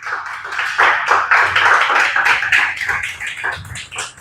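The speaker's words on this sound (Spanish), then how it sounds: "Dale un aplauso al Señor." A church congregation at Iglesia Favor Divino breaks into applause: a dense, lively patter of many hands clapping close by, sustained for several seconds.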